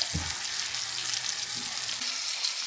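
Chicken breast sizzles steadily in a hot pan with a flour roux, a loud continuous frying hiss close up and a few soft low bumps underneath, with no talking.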